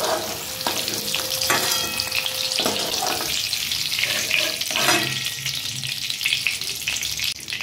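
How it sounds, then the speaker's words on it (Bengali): Potato and papaya fry in hot oil in a Bengali kitchen, a loud continuous sizzle and crackle up close, punctuated by a few spatula scrapes and knocks against the pan. "এইভাবে আমি আলুটা পেঁপেটা ভেজে নিলাম"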